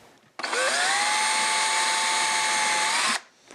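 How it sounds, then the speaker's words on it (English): A power drill whines loudly and steadily for nearly three seconds while drilling a hole through the back of a wooden instrument body into a glued-on block, its pitch climbing slightly at the start, then stops abruptly. "I then come in with my drill and drill a hole through the back and into the little block"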